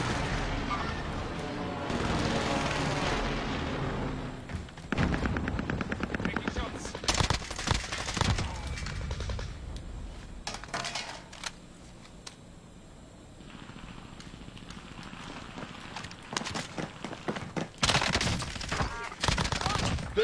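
Rapid automatic gunfire in a first-person shooter video game, loud bursts early on, then sparser shots and booms later, with a player's voice talking at times.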